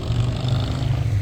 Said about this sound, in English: that's a motorcycle going by.